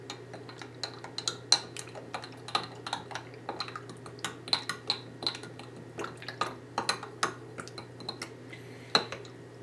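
Pizza dough ingredients are mixed in a bowl, with a quick, irregular series of light clinks and scrapes from a utensil against the bowl, heard close up in a quiet room.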